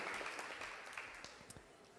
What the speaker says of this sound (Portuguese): Vamos dar uma salva de palmas, né?